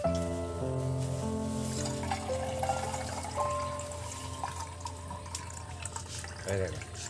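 Water pours into rice in a pot while making chicken pulao, a steady splashing flow running under other kitchen noise, with some voice present.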